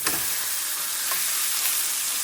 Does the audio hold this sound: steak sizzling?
yes